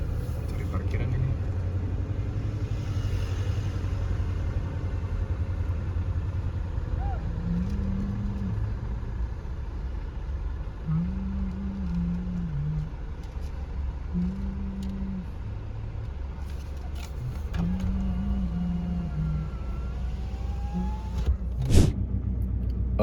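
A car rolls slowly through a ferry port car park while searching for a space on a Bali to BSD road trip, a steady low engine rumble with occasional faint tonal beeps and a sharp click near the end.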